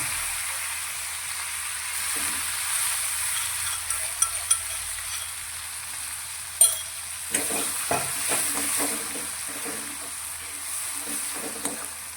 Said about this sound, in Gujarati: હવે આ મસાલાને આપણે તેલમાં થોડા સાતળીશું